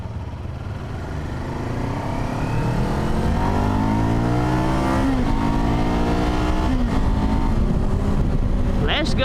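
A Kawasaki Ninja 500 motorcycle engine on an adventure bike accelerates through the gears, its loud revving climbing and dropping with each shift under steady wind noise, with a rider talking over it.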